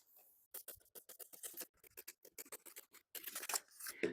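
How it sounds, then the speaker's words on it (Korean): Scissors snip through a paper jacket pattern along the back centre, princess and side seam lines, a close, quiet run of quick crisp cuts in irregular bursts with no talking. "지금 정리한 뒷중심선과 프린세스 선, 옆선, 그리고 앞판 프린세스 선을 가위로 커팅해 주도록 하겠습니다"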